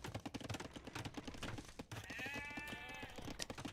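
Sheep bleat in Age of Empires over a busy game soundscape of rhythmic clicks and clatter, then one clear, wavering bleat rings out near the end, fairly close and distinct above the background.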